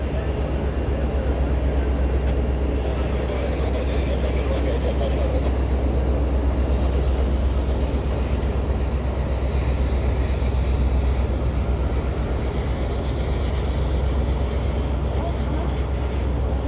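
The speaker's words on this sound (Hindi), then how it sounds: "मीनवाइल कोई ट्रेन जा रही है यहाँ से, यशवंतपुर से निकल रही है।" A train pulls out of Yesvantpur station, a steady loud rumble of wheels and rolling cars with a low engine drone, continuous and close throughout, with faint high squeal above.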